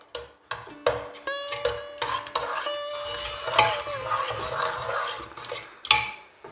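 Cooked pumpkin, beans and plantain being mashed and mixed in a pot, with a series of close, sharp utensil knocks and scrapes arriving in an uneven rhythm.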